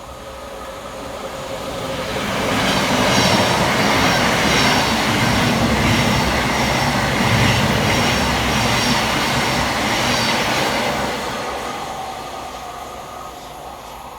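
Thameslink Class 700 electric train running from Brighton to Bedford through Anerley station during a storm: a loud rushing roar with rail rumble that swells, holds for several seconds as it passes close by, then eases away under wind noise.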